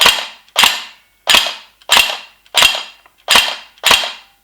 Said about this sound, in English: That clanging sound.